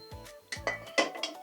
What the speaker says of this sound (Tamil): இப்போ நாங்கள் அவலை வறுத்து இறக்க போகிறோம்.